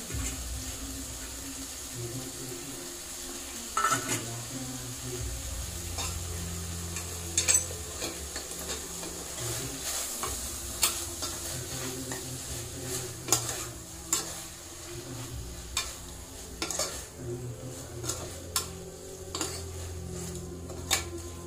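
Tomato and chicken sizzle and fry in a pan for a simple chicken curry, with a steady hiss broken by repeated utensil scrapes and clinks against the pan throughout.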